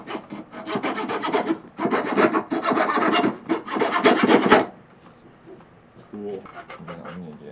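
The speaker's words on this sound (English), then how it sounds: "Then I'm gonna get on some of this filing action." A file scrapes wood in rapid, rhythmic strokes up close while a crossbow is being built. The rasping stops after a few seconds, and a voice speaks briefly afterward.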